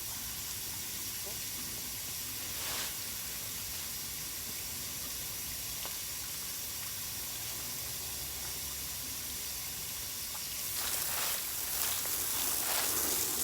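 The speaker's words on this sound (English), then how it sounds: "So let's wet the soil." Water poured onto potting soil in a pot ahead of sowing spinach seeds, a steady hissing trickle that swells louder and splashier toward the end, close by with no talk.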